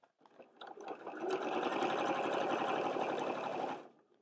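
A domestic sewing machine stitches a fabric basket, starting with a few slow stitches before running fast in a steady, close, mechanical whir. It stops abruptly near the end with no voices.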